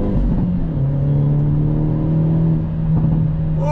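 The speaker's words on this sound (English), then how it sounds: "Ooh, the pops, the bangs." A 2022 Hyundai Elantra N sport compact accelerating hard on track, its engine rising in a loud, continuous droning rev close by, with exhaust crackle near the end.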